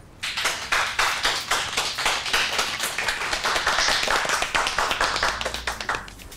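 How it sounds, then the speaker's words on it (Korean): Office staff in a sales planning department clap to cheer on two colleagues at a meeting, a brisk round of clapping from a small group of nearby hands that builds quickly and continues steadily before tapering. "응원의 박수를 쳐줍시다"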